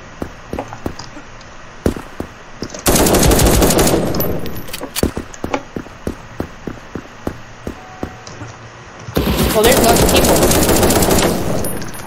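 Automatic weapon fire in the browser shooter game krunker.io, two long loud sustained bursts of rapid shots separated by a stretch of sharp single shots and footstep-like ticks.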